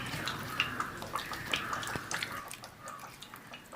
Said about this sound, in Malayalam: ഇത് നമുക്ക് വെള്ളം ഒഴിച്ചു കൊടുക്കണം.